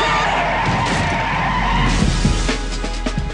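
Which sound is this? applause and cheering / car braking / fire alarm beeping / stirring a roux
car braking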